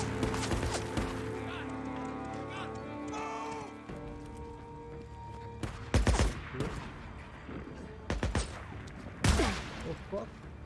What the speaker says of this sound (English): They're shooting at him just like.